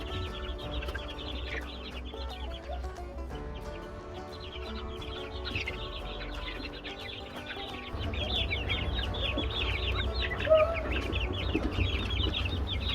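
Young chicks, about five weeks old, cheep and cluck together in a small brooder; steady chatter of peeps continues throughout, slightly busier in the second half, with some faint rustling.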